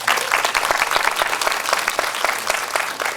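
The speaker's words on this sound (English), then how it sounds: "Let's first give her a quick round of applause." An audience at a marketing talk applauds a speaker, with dense, steady clapping from many hands that holds loud and even throughout, close and with no voices standing out.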